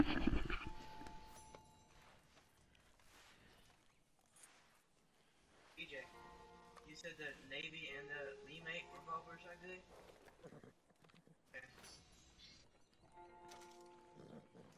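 Horse sounds from the video game Red Dead Redemption 2, with faint hoof clopping and animal noises that come and go under a person talking throughout.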